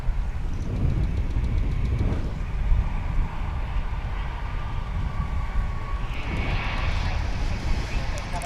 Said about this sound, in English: 1780 is coming in from Las Vegas, an A321.